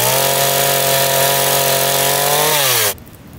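A loud motorized saw runs at a steady high whine while cutting wood in a forest, then drops in pitch and cuts off abruptly, leaving quiet background.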